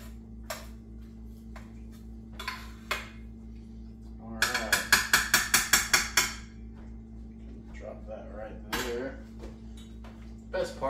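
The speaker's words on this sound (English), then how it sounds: "Go ahead and stir this bad boy up." A green bean casserole with cheese and French fried onions is stirred in a dish, giving a quick rhythmic burst of close spoon clinks amid scattered taps, with a voice speaking around it.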